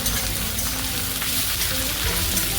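Sliced onions sauté in a pan over a medium flame, giving a loud, dense, even sizzle that crackles steadily without pause throughout.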